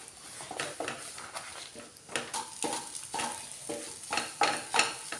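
Two eggs frying and being stirred in a pan with masala for a semiya lunch box dish, steady sizzling broken by repeated scraping stirs of a utensil, close and moderately loud with no speech.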